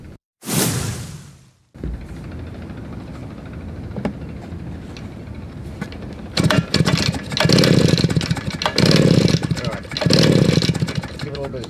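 A RedMax leaf blower engine that fell off and needs carburetor and fuel line repair is pulled to start, with a whooshing cord pull followed by a run of rough, sputtering bursts that catch briefly and die, close by, while a voice talks.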